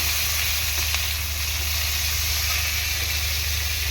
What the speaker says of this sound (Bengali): উচ্ছেটা প্রথমে হালকা করে আমি ভেজে নেব